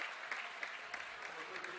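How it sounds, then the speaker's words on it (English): A home crowd at a high school boys basketball game in Minden applauds with steady, faint clapping that holds at an even level throughout, with scattered louder claps popping out of the wash. "Nice job by the Minden crowd giving their team the accolades"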